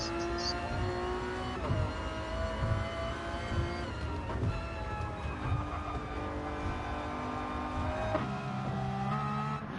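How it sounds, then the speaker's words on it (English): A high-revving McLaren F1 race car engine in a racing video game drones steadily, its pitch rising and dropping through gear shifts, loud and continuous. "McLaren F1 of Wolfman Willie just to listen to this car"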